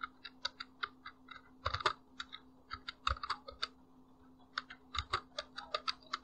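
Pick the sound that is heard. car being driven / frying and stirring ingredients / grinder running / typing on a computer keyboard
typing on a computer keyboard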